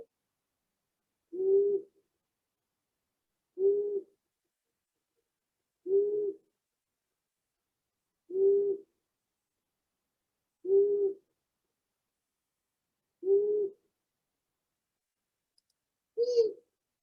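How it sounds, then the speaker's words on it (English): A long-eared owl giving seven low single hoots spaced about two seconds apart, each soft and even against a silent dusk background. "Long-eared owl."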